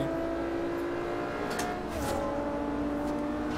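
A racing car engine in Forza Horizon 2 holds a steady, close revving drone with a thin whirring tone over it, running unbroken throughout with no talk.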